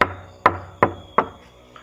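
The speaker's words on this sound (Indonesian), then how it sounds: "Suara ketukan itu mulai terdengar kembali," Four sharp wooden knocks spaced about a third of a second apart, loud and close, each with a short decay, used as a sound effect in a ghost story, with no talk over them.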